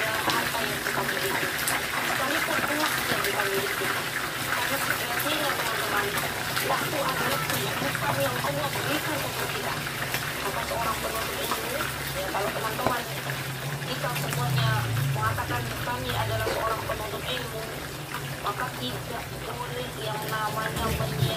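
Small dencis fish frying in oil in a simple home kitchen, a steady dense sizzle that runs throughout beneath someone talking.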